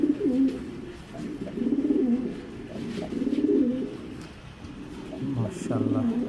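A pair of racer pigeons coos in low, rolling throaty waves close by, repeating steadily throughout while someone talks over them.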